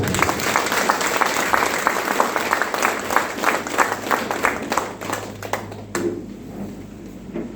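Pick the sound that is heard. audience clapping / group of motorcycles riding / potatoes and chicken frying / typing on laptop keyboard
audience clapping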